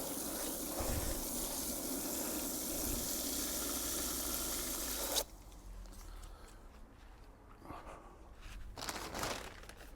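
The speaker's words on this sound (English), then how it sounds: "You just want to add a little bit of water at a time." Water pours and gushes steadily for several seconds into refractory concrete mix, then stops abruptly, leaving quieter scraping and splashing sounds nearby.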